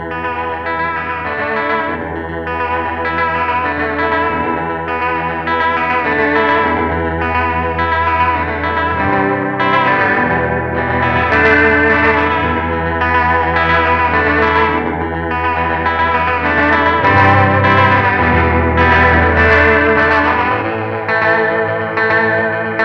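Electric guitar played through a Belle Epoch Deluxe echo pedal set to Echo Program 6, DMM vibrato mode, giving a continuous wavering, warbling tone with repeating echoes and a lush, wide wash of sustained chords, no talking.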